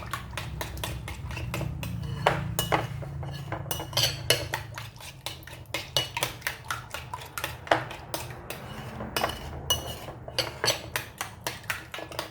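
A utensil clinks and scrapes steadily against a bowl while okra is tossed with pepper, a rapid close rhythm of small metallic taps and rattles with no talking.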